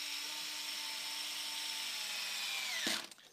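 An electric screwdriver drives the last screw into the rear gearbox cover of an RC car, a steady high motor whine that drops in pitch as the screw seats, then stops with a short click.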